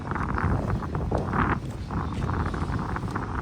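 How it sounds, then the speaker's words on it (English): Gusty wind at a vintage motel in the Wildwoods buffets the microphone with a continuous low rumble and rushing noise, rising and falling in strength. "Very nice and windy over here."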